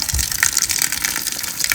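Water gushes steadily from an antique stone fountain fed straight from the mountains in an Italian village, a continuous close splashing hiss throughout.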